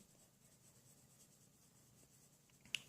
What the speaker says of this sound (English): just little squiggles, little swirling action with the pencil